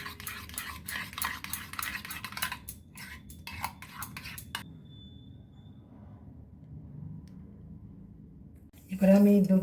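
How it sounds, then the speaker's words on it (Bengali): A spoon or whisk beats yogurt in a bowl for doi, giving a rapid run of clinking, scraping strokes that stop after a few seconds, leaving quiet room tone before a brief louder clatter. "এটা করে একটু ভালো করে ফেটিয়ে নেবো।"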